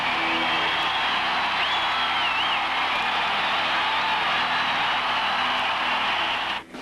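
A huge stadium crowd roars at a concert, a continuous, hissing wall of cheering and screams that holds steady throughout and cuts off at the very end.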